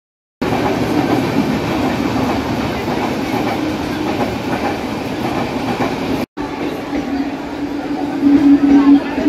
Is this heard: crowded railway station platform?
yes